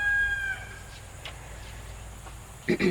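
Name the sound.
roosters crowing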